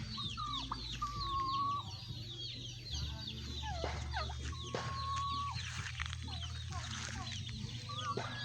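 Turkeys cluck and gobble in a busy farmyard chorus, several birds calling over one another at moderate distance, with a low steady hum underneath.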